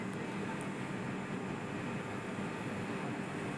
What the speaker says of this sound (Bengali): এই মুহূর্তে ট্রেন পাঠানকোট স্টেশন ছেড়ে বেরিয়ে যাচ্ছে।